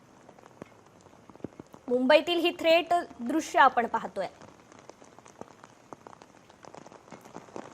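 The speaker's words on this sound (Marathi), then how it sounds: "कार्यालयीन वेळेत जोरदार पावसाने हजेरी लावलेली आहे" Heavy rain pours over the CSMT area of Mumbai during office hours, a constant broad hiss of downpour on streets and surfaces beneath a reporter's voice that speaks briefly in the middle before the rain carries on alone.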